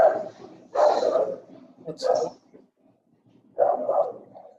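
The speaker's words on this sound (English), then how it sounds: "Whose dog is that?" A dog barks in two or three short loud bursts during a university fluid mechanics lecture, with quiet gaps between the barks and no speech over them.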